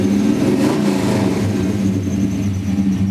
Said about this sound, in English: We'll give it a little bit of gas.